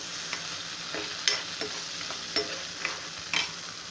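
Tomato and ginger-garlic paste sauté in hot oil in a pan for a cashew masala curry, with a steady soft sizzle and occasional light clicks of a stirring utensil, fairly quiet and without talk.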